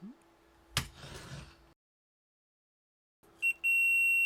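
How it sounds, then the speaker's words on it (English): After a short clack and some rustling, a steady high-pitched electronic beep from a multimeter continuity test on an electric stovetop grill's thermal fuse starts and holds, close and clear. "I'm gonna check it with my meter here, and we'll see if it beeps"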